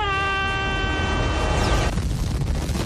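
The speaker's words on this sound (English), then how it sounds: "nothing is quite like inflicting a deadly explosion onto your enemy" A deadly dramatic explosion sound effect: a loud, sustained blast of dense rumbling noise filling the whole stretch, with a sharper crackling burst near the end and no speech.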